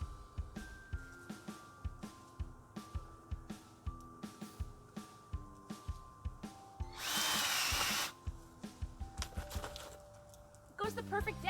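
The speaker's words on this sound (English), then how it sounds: "I'm going to be drilling to place the bulbs where they need to go." A power drill bores holes in garden soil for bulbs, whirring in short, rhythmic bursts, with a longer continuous grinding run partway through, close and fairly quiet, with light handling noises between.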